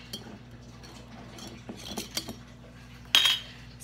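Green juice ingredients being stirred and mixed, with faint scattered clinks and taps of a utensil against a container, and one sharper bright clink near the end over a low steady hum.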